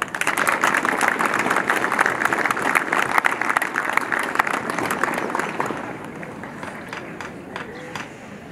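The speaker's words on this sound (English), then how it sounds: "can you give a welcome them with a loud round of applause?" A crowd claps at a school sports day, loud and sustained at first, then gradually fading toward the end, with some voices mixed in beneath the applause outdoors.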